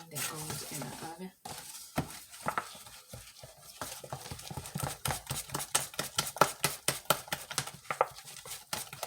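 Ingredients stirred in a bowl with a spoon, giving a quick run of regular clicking and tapping strokes against the bowl, close and moderately loud, with no talking.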